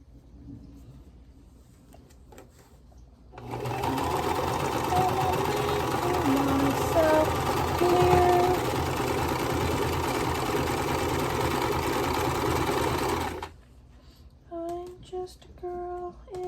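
A sewing machine stitches vintage-style quilt block pieces together, a steady mechanical whir running continuously for about ten seconds at close range, with quiet room sound before and after.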